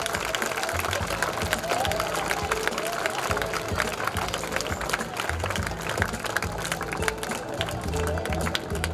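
Steady audience applause from a crowd welcoming an honoree at a school event at Aadarsh Vidyalay in Basu, continuous dense clapping with a low murmur of voices throughout.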